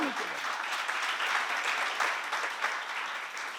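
A seminar audience at a church gathering claps together in a dense, even round of applause that holds steady throughout.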